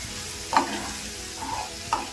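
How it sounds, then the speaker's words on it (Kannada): Onions sizzle softly in hot tempering oil, with two sharp scrapes of a spoon stirring the pan. "ಸ್ವಲ್ಪ ಎಲ್ಲ ಬಾಡ್ಸ್ಕೊಂಬೋಣ ಒಗ್ಗರಣೆಯಲ್ಲಿ"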